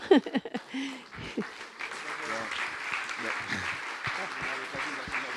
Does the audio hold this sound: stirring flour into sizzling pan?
no